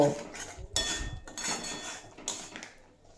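A metal spoon scrapes and clinks against a pan while cumin powder and Kashmiri chili powder are stir-fried for a cauliflower dish, giving quiet, irregular knocks and scrapes with brief pauses.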